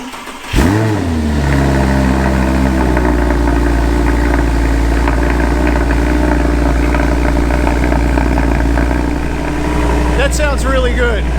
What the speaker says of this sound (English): So this is a cold start.